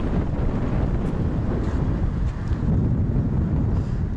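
Strong wind buffeting a microphone outdoors near Parnas, a constant loud low roar and rumble with slight gusting swells and no pauses.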